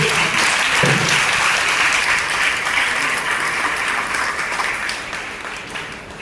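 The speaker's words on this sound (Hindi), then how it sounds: "एक बार जोरदार ताली बजाइए मसीह से।" A congregation at a Good Friday church service bursts into loud, sustained clapping that gradually tapers off over about six seconds.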